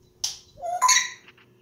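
A pet bird lets out a few short, loud squawks and chirps close by, one harsh call followed by a longer squawk and softer trailing chirps, with no talk over them.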